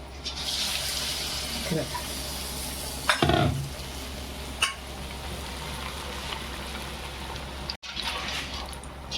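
Gram-flour battered vada dropped into hot oil, a steady sizzling fry with a few splashy bursts as pieces go in, while someone speaks over it.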